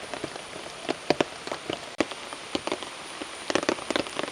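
Rain patters down in scattered, irregular drops striking a hard surface, with sharper taps standing out against a soft steady hiss. No voices.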